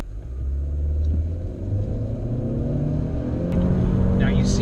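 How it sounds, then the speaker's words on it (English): A Honda Civic with a CVT accelerates at full throttle from a stop, its engine drone building into a steady rumble as speed rises, with a voice talking over it. "And now full throttle from a stop up to speed."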